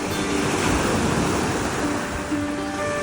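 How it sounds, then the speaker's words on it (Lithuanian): Sea surf roars continuously near a pebble shore, a broad rushing wash with faint wind across the microphone. "Labai gražiai ošia jūra."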